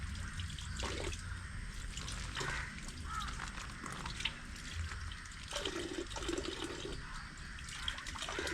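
Water splashes and trickles over plant leaves as snail eggs are rinsed off, an intermittent quiet running and dripping close by with soft handling noises in between, no voices.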